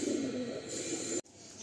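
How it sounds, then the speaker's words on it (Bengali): A male pigeon of an Andhra breed coos in low, soft repeated phrases close by, the cooing ending abruptly partway through and followed by quieter background. "মেল পায়রা আছে এটা।"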